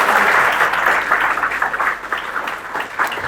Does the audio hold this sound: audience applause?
yes